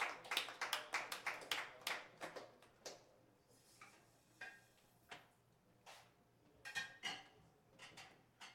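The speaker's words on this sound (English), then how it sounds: "How about another round of applause for Mark?" Sparse claps from a small open mic audience, some quick runs of hand claps followed by scattered single claps, faint and close.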